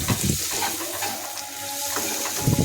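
Prawns with taro stolons and garlic being stirred and fried in a pan, a steady sizzle with scraping strokes of the spoon near the start and end, close and fairly loud with no talking.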